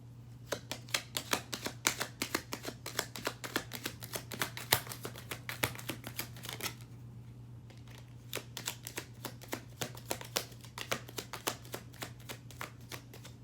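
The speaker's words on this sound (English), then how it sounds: "They're telling me to go ahead and shuffle one more time." A crystal tarot card deck being shuffled up close, rapid bursts of crisp card riffles and taps repeating in quick rhythm, pausing briefly midway, over a steady low electrical hum.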